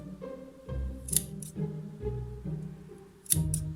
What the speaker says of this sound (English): So let's give them a good old snip.